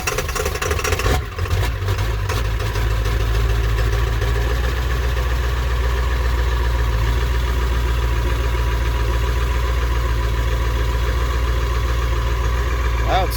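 A 4x4 dually truck engine cranks and catches, then settles into a loud, steady, rumbling idle close by that runs on without change, with a voice briefly talking over it.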